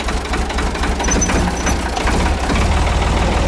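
An old vehicle engine, on a farm vehicle used for pulling soil, runs at a steady, rough, low-pitched idle. It stays loud and close throughout, with no talking.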